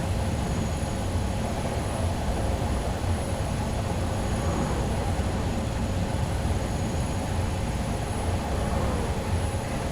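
An HST high speed train passes in Train Sim 2021, a loud continuous rushing roar of engine and wheels that holds steady for the whole stretch.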